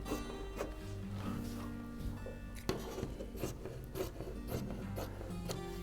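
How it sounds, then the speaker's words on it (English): Scissors cut fabric away from the front of a shirt, giving soft repeated snips and rubbing rustle of cloth, close and quiet with no talk. "So what I'm doing now is I'm cutting away only the front"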